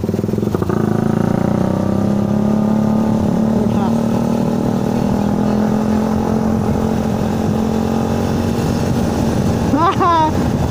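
A motorcycle fitted with an aftermarket exhaust pipe holds a loud, steady engine note, rising slightly in pitch, with a brief sharp rev near the end and a voice talking over it.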